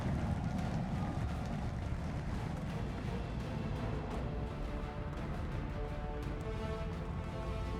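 In Kerbal Space Program, Starship Super Heavy's Raptor engines roar at liftoff, a dense broadband rumble with crackle that stays loud and steady throughout, with no talk.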